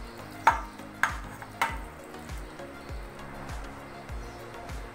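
Coconut milk being stirred into a mixed vegetable sabji, a few clinks of a spoon against the pot followed by soft scraping, with a voice talking over it.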